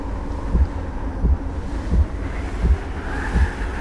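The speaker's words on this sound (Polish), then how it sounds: "Czyli ogólnie tu są jakieś wiatry." Wind gusts sweep steadily through a Fortnite game scene, with low rumbling surges recurring about every half second to second, resembling surf or wind buffeting against a microphone, without voices.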